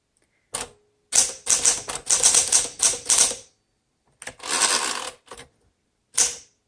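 Typing on a 1960 Smith Corona Sterling manual typewriter, close bursts of sharp clattering keystrokes with brief gaps, then a lone strike after a pause.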